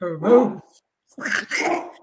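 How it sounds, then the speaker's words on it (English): A dog gives a long drawn-out bark, loud and close, followed after a pause by a couple more vocal, bark-like bursts that may be a person, with no clear speech over it. "He had the longest drawn out bark ever"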